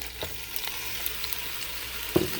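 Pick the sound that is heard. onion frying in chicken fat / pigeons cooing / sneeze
onion frying in chicken fat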